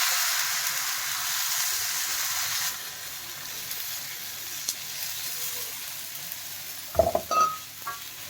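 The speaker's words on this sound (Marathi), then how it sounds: "हे आता दुसरं थालीपीठ मी सोडत आहे तव्यामध्ये" Thalipeeth flatbread sizzles in oil on a hot tawa with a loud, steady hiss at first that drops to a quieter sizzle, then a few sharp clinks and scrapes near the end.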